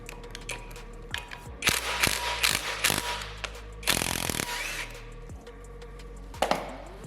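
Socket ratchet clicking in short bursts while loosening exhaust studs on an R32 Nissan Skyline engine rebuild, with metallic clatter between strokes, close and fairly loud.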